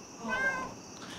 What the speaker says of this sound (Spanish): ¡Oh, un gato negro!